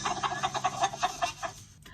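Backyard chickens clucking in a rapid run of about a dozen short, bright, rhythmic clucks close by, breaking off abruptly at the end with no voices.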